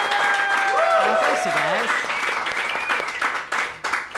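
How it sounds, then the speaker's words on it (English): A live comedy audience applauds a returning guest, a bright sustained burst of clapping that fades after a few seconds while someone speaks over it. "Give him the round of applause he didn't get last time."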